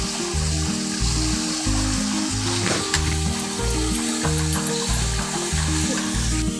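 Drumstick stalks hit a hot pan for a Bengali data chorchori with potatoes, raising a steady, close sizzle of frying that carries on throughout with a faint clatter underneath.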